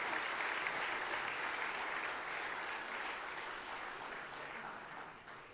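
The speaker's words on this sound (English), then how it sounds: "Please join me in another round of applause for these lovely ladies" An audience applauds the organizers at a synagogue event called TBS Return & Renewal. The clapping is dense and continuous, faint and a little distant, and slowly thins toward the end.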